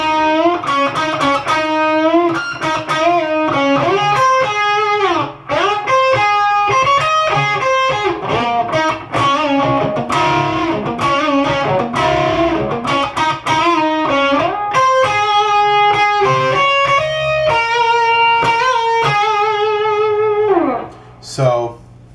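A distorted electric guitar plays the verse lead of a song as a continuous melodic line of sustained notes with slides and bends, loud and up front for about twenty seconds.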